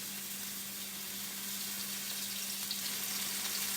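Fish tacos fry in olive oil on a flat-top griddle, a steady close sizzle with a constant low hum beneath and no talking.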